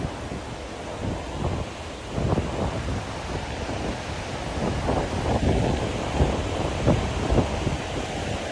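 Ocean waves and strong wind on the open deck of an MSC cruise ship produce a steady, loud rushing roar with gusty buffeting against the microphone and no voices.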